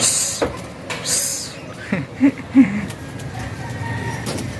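Racing pigeons coo softly in a few short low calls outdoors during summer training, with other faint bird sounds and light background noise around them.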